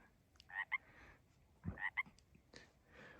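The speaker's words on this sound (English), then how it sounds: "Pacific Tree Frog." A Pacific tree frog croaks at night in two quick double-note calls, faint and somewhat distant over a quiet background hiss, with a softer call trailing at the end.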